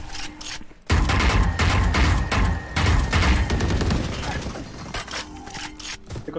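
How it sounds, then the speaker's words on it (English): A swarm grenade detonates in a first-person shooter, unleashing a loud, dense burst of rapid explosive crackles and gunfire-like pops that fades over several seconds. "Swarm grenade out."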